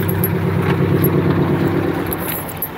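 Car engine idling after its fuel filters were changed, a close steady low rumble with even harmonics, easing slightly toward the end, with a few light clinks.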